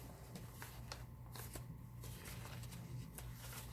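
Quiet, crisp rustles and flicks of paper pages being turned through a handmade junk journal, irregular soft snaps over a low steady hum, no talking.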